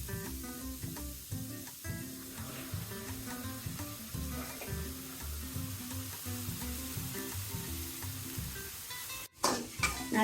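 Spice paste, green chillies and chopped tomato fry for a crab and coconut curry, a loud steady sizzle with rhythmic stirring scrapes, ending in a sharp clatter and burst of fresh hissing.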